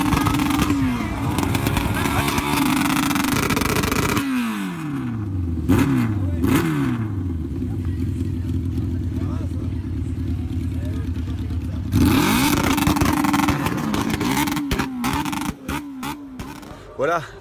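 Race car engines at the 2019 24 Hours of Le Mans scream loudly, with repeated rising and falling revs and cars sweeping past one after another; a brief lull in the middle is followed by more passes.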